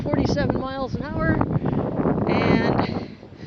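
Gusty wind in a cemetery pummels a phone's microphone with a continuous low, blustery rumble beneath a man's steady speech.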